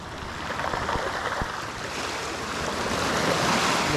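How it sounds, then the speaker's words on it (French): Surf rolling onto a beach of pebbles, a continuous wash of noise that slowly builds in strength, with a couple of faint knocks near the start. "je me trouve sur une plage"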